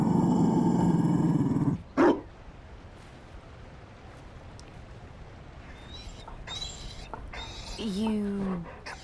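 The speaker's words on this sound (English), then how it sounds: "You found a dog." A Mabari war dog in a fantasy video game lets out a deep, rumbling growl for nearly two seconds, followed by a sharp bark-like burst, then quieter game ambience with faint chirps and a brief creature call.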